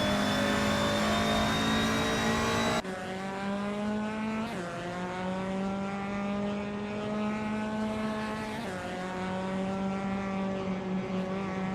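Race car engines from a sim racing game, led by a 2019 Ford Focus ST on Suzuka Retro with no chicane, hold a loud steady drone with rising and falling pitch through gear changes and several cars close together.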